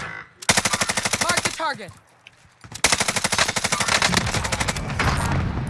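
Rapid automatic gunfire in the shooter game Warzone, long close bursts of machine-gun fire broken by a short pause, with a voice calling out over the shooting.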